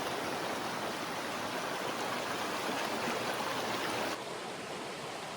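Mountain stream flowing steadily over rocks and logs, a continuous broad rushing hiss of water heard up close with no voices.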